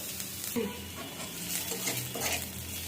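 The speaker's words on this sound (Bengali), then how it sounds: "পেঁয়াজটাকে এখন আমি আস্তে আস্তে ভেজে নিচ্ছি।" Onion frying slowly in a pan for a light greens dish, a soft steady sizzle with gentle stirring scrapes, faint and close, with no clear talking.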